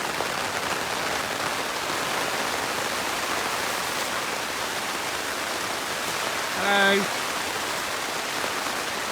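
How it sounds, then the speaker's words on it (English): Torrential rain pours steadily outside a tent on an Arctic trip, a dense, even hiss of heavy rainfall that continues throughout, with a single short spoken greeting near the end. "It's torrential rain."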